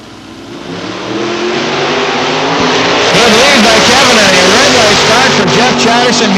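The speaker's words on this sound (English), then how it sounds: "Kevin Wick flies by for the win tower side, 889, 138 miles an hour." Drag race cars roar down the strip at London Motorsports Park during a Labour Day event, engines building into a loud sustained rev over several seconds while an announcer talks over them.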